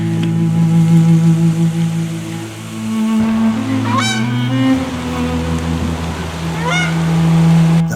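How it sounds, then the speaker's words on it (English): Canada geese honking at sunset during an archery whitetail hunt in Alberta: a loud, continuous chorus of overlapping honks from a nearby flock, with no voices. "we had a beautiful Canada goose show and an awesome sunset"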